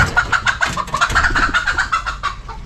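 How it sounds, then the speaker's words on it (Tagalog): A chicken clucks close by in quick, repeated bursts of short calls, with faint rustling behind them. "Siya nagpunta ditong manok."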